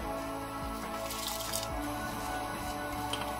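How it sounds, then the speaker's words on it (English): A kilo of washed basmati rice tips into a pot of boiling water in a home kitchen, giving a soft continuous wet pour and squelch with scattered drips, close and fairly quiet. "now this is 1 kilo of washed basmati rice, so I'll just put the rice into the water"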